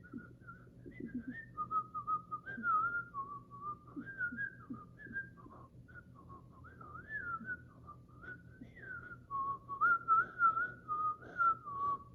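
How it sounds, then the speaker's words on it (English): A person whistles a wandering, melodic tune alone, fairly soft and steady for the whole stretch, over a faint low background hum. "And then he started whistling the enchanted tune,"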